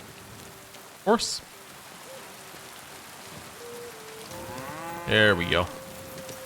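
Heavy rain in the Kingdom Come: Deliverance II video game, a steady hiss of downpour throughout with cattle mooing twice and someone speaking briefly.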